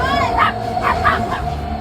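A dog barks excitedly at a Washington Metro station as a Silver Line train pulls away, three or four loud close yips and barks in quick succession over low rumbling background noise.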